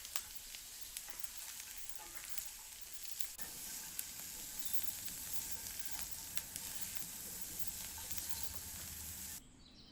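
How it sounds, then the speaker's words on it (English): Chopped carrot sizzles in a frying pan, a steady close hiss of frying with a few faint clicks of stirring, going on without a break and with no voices. "Let's add in the chopped carrot and let it cook for a bit until it softens."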